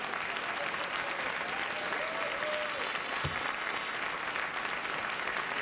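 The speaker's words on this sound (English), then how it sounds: "save your clapping until I say it to you" Dense, continuous applause from a sizable television studio audience fills the whole stretch at a steady level, with no pauses.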